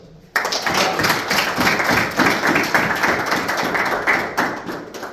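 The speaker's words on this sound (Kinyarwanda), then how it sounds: "reka tutere amashyi" A church Sunday school congregation bursts into loud, sustained applause after a short quiet moment, with many hands clapping densely and steadily to the end.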